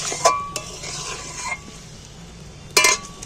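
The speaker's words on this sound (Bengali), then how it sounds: "আবারও ভালো করে নাড়াচাড়া করতে হবে।" A spoon stirs melted, watery jaggery with amla in a pan, making a few short scraping clinks spread out over a few seconds against a quiet kitchen background.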